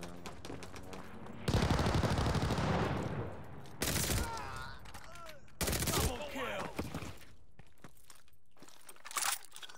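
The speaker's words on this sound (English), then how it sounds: "Hostile strafe inbound." Call of Duty aircraft strafe run: long bursts of rapid gunfire and explosive impacts roar loudly in several waves, with rumbling debris between them and game effects behind.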